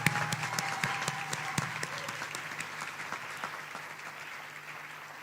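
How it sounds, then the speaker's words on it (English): A ceremony audience gives the students a round of applause, the clapping loud and dense at first and then thinning out and fading over a few seconds. "give a round of applause to our amazing students"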